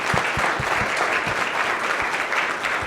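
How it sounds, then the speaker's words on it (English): A conference audience applauds a panel at a cloud cost management event, a loud, continuous wash of many hands clapping with a few heavier claps standing out near the listener. "let's give one more round of applause to our panel"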